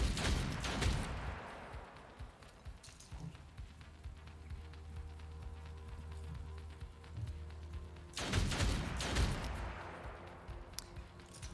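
Gunfire in the turn-based game Othercide, with a sharp burst of shots at the start and another loud volley near the end, separated by a quieter stretch of low rumbling ambience.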